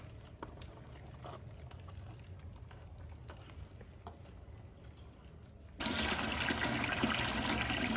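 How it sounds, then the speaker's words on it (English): After a few seconds of quiet background rustling, water suddenly gushes loudly into a crawfish boil pot in a strong, steady stream. "get your pot full of water"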